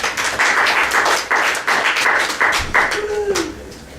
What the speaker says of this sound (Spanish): pido una vez más un aplauso para el compañero